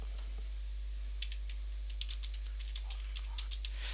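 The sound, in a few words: typing a note on a computer keyboard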